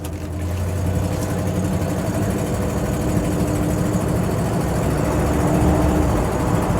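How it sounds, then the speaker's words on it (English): A 1955 Lincoln Capri engine runs loud and steady close up, with a rough, ticking rattle from an exhaust manifold leak over its idle that continues without pause. "There is an exhaust manifold leak on this one."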